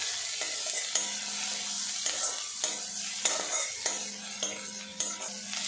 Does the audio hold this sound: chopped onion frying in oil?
yes